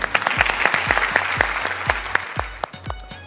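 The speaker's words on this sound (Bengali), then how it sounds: "জোরে একটি করতালি সবার জন্য।" Loud applause from an audience for the winners and runners-up at a televised Eid game show, steady dense clapping with a few sharper claps standing out as it thins near the end.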